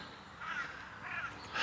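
A crow calls loudly beside the Chesterfield Canal near the old Staveley ironworks, giving a few harsh caws in quick succession, close by and outdoors.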